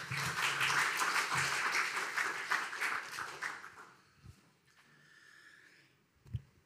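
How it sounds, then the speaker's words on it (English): Audience applause at an academic conference session, a dense burst of clapping that carries on for several seconds, then thins out and fades to scattered quiet sounds. "One last applause."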